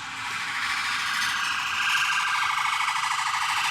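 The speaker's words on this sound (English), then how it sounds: "That is the weirdest alarm sound I've heard in my life." An odd, unfamiliar alarm siren sounds nearby, a loud, continuous high warbling tone that keeps rising and falling steadily with no talking over it.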